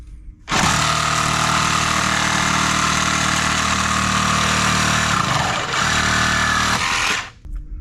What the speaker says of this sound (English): So I'm just cutting this side of the bracket off